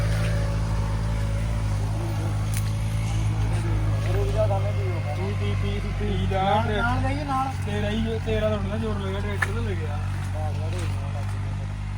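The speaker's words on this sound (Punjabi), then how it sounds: "ਪਹਿਲੇ ਹਾਈ ਤੇ ਟਰੈਕਟਰ ਚੱਲ ਰਿਹਾ" A New Holland 3600-2 tractor engine runs in high gear on a farm, a steady low, loud drone continuing throughout while someone talks over it.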